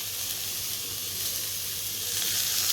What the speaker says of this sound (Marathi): हे बघा तेल टाकलं आणि परतून घेते छानपैकी आणि बनवते चटणी.